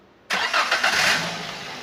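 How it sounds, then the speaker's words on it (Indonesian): A 2015 Daihatsu Granmax 1.3 pickup engine cranks briefly and catches, settling into a steady idle with a few uneven pulses, close and fairly loud with no talk. "Kita cek, kita starter, kita coba dengerin suaranya langsam"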